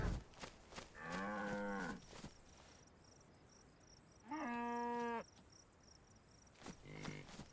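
Two drawn-out cow moos a few seconds apart in the video game DayZ, with a shorter third starting at the end, over a steady hiss of crickets and faint shuffling.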